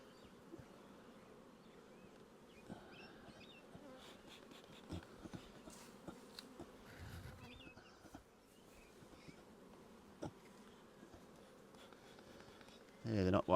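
Honey bees buzz around an open hive during a spring inspection, a faint, continuous drone mixed with soft clicks and knocks from the handled frames, and someone speaks quietly nearby.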